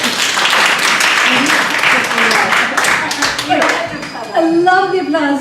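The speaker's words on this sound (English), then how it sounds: "I love the applause" Audience applause at a poetry reading, a dense crowd clapping that carries steadily through most of the stretch, with a voice starting to speak over it near the end.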